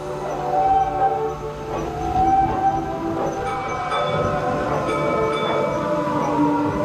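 A Lego toy train at a Disney-themed train station sounds a few short tonal whistle blasts over a continuous rolling, clattering motor noise, fairly close and steady throughout.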